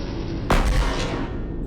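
One sharp blast of weapon fire from ships in the space game Astrox Imperium cracks out and fades over a low rumbling background, with no talk.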